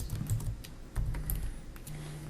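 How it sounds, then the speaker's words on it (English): Computer keyboard typing during a county commissioners meeting, irregular clusters of quick key clicks with brief pauses, fairly close and without talk. "do you need to finish typing something?"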